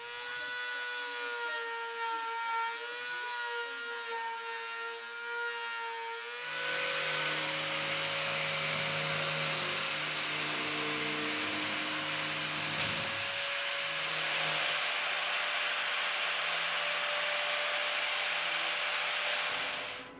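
Power tool cutting and grinding while fitting a Reimo hightop onto a Volkswagen Vanagon Westfalia: a steady high whine at first, then a louder, harsher rasping grind that continues for over a dozen seconds.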